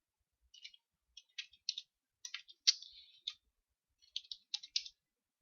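Keys tapped on a computer keyboard while setting up a Word 2010 document, light clicky strokes in short bursts with pauses between, close and quiet with no talking.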